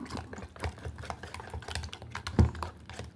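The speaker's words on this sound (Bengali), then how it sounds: "চামচ দিয়ে আমি ভালো করে মিক্সড করে নেব।" A spoon stirs sugar and cornflour together in a bowl while making pudding cake, giving soft irregular scraping and clinks, with one louder knock near the end and no talking.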